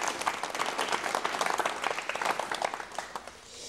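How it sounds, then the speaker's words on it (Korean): A studio audience claps to welcome a guest on a 1989 Korean TV talk show, with dense applause from many hands that holds steady and then fades near the end. "여러분 박수로 맞이해 주시면 대단히 고맙겠습니다."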